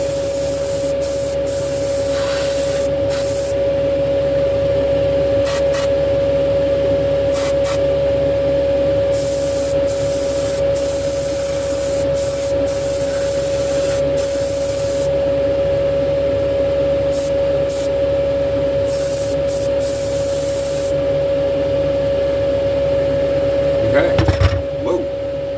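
A spray gun lays a wet paint coat on a 1965 Chevy Impala, giving a steady airy hiss with a constant compressor-like hum and brief pauses as the trigger releases, fairly close throughout.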